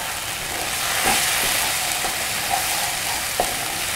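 Spice paste sautéing in a pan for a sambal of chicken liver and gizzard, a steady dense sizzle with faint stirring scrapes and a few soft pops, close and alone.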